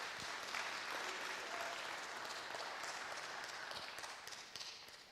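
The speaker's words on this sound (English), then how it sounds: "Give her a round of applause" An audience applauds in a large hall, a dense, steady wash of many hands clapping that holds at a moderate level throughout before tapering slightly at the end.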